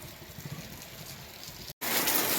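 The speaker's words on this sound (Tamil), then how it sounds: "மழை இப்போ நல்லா பெஞ்சிட்டு தான் இருக்குது." Heavy rain falling outdoors, a steady broadband hiss of drops on surfaces that runs continuously, briefly cuts out, then returns a little louder and brighter.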